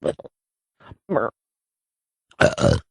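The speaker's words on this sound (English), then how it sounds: "You burped and everyone knows you did it now." A person burps in a few short, throaty bursts separated by silence, ending in a louder, longer belch close to the microphone.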